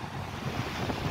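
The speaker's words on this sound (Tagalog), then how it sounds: "Malakas ng alon." Rough sea waves churn and crash in winter on the Kuwait coast, with heavy wind buffeting the microphone, a loud, continuous roar.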